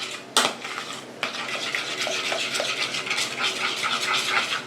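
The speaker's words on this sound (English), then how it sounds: "this right here is just stirring it up" Honey garlic sauce stirred in a pot, a steady brisk scraping and swishing of a utensil against the pot with a sharp knock near the start, close and continuous.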